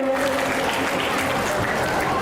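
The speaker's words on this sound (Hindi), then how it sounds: "एक बार जोरदार तालियां हो जाए हमारी बिरादरी की बच्चियों के लिए।" Applause from an audience at a community award ceremony in Banswara honouring girl students, a dense, steady clapping wash that stays loud and even throughout with no break.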